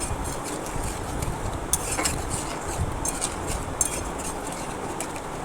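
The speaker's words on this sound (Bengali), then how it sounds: "জল দিয়ে মশলাটা ভালো করে মিশিয়ে নিলাম" Spice paste and water are mixed in a pan, heard as soft scraping and stirring with a few light clinks of a utensil against the pan.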